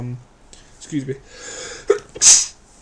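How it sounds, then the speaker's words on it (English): A single sharp sneeze bursts out near the end after a quiet intake of breath, loud and close. "excuse me, sneezing on camera"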